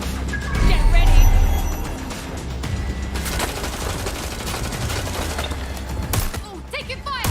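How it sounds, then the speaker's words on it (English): Gunfire in the video game Watch Dogs Legion, with a dense rattle of shots under the game's engine rumble and ambient noise, loudest early and then continuing at a steady level. "Oh, taking fire."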